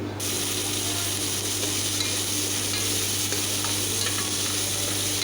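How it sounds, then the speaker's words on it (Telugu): Mustard seeds and urad dal fry in hot oil in a pan, making a steady, loud sizzle with faint crackling pops and a low hum under it. It is heard alone, with no talk. "ఆవాలు కొన్ని మినపప్పు మినపప్పు కొంచెం బ్రౌన్ కావాలి"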